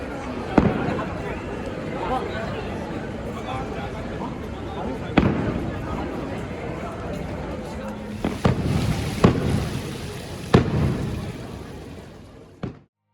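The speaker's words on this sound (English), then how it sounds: "just in time for fireworks" A fireworks display at a Tokyo theme park at night, with sharp booming bursts spaced several seconds apart over a continuous crowd murmur and faint talk, the bangs clustering more densely toward the end.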